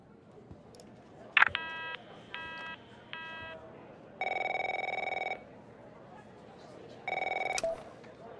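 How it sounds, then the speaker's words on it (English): Telephone rings in the video game The Operator: repeated electronic bursts, first short triple trills, then two longer sustained tones, loud and close with no voices over them. "My phone's ringing off the hook here."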